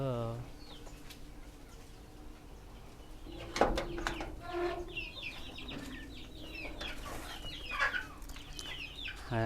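Hens and chicks cluck and peep close by in a farmyard, with scattered calls, a sharp knock, and a person speaking in the background.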